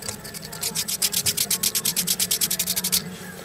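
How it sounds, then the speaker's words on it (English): Rapid, rhythmic rubbing on Tech Deck fingerboard grip tape makes a soft, sandpapery scratch, repeated about twenty times close to the mic, then it stops. "And the grip tape is really soft. Just hear it. Hear the softness."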